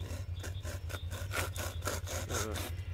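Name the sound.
homemade frame saw cutting a small branch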